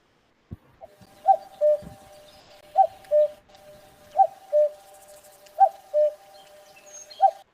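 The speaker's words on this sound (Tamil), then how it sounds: "இப்படிதான் வந்து குக்குவோடது இருக்கும்." A common cuckoo repeats its two-note cuckoo call, a clear high note followed by a lower one, four times at steady intervals, fairly close and alone in a quiet setting.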